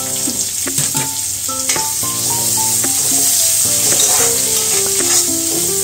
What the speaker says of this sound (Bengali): পেঁয়াজগুলো একটু লাল লাল করেই ভেজে নেওয়া হচ্ছে